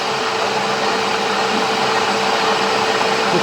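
A lathe turns welded steel stock with a fresh cutting tip, giving a steady, loud broadband machining hiss and whine that holds evenly throughout with no speech.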